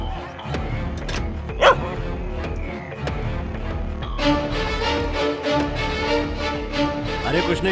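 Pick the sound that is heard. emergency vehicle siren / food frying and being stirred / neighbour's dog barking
neighbour's dog barking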